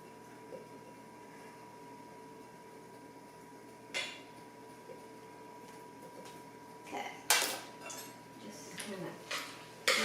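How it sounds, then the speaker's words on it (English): Butter being chopped into noodles in a pan, sparse clinks and scrapes of a utensil against the pan that grow busier toward the end, over a quiet room hum. "I'm going to take it and chop it up in the pan with the noodles"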